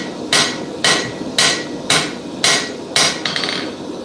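Six evenly spaced hammer blows ring out on a press punch held at a blacksmith's anvil, each a sharp bright metallic strike followed by a short decaying ring, loud and close with no talk.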